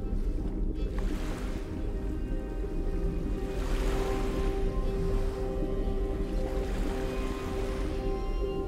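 Sea waves at night roll in slow surges, three soft washes rising and fading over a constant low rumble, distant and gentle with no voices.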